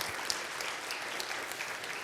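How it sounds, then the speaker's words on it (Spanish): A church congregation claps together in a dense, steady burst of applause. It is fairly loud and fills the room evenly, with no talking. "Denle un fuerte aplauso al Señor."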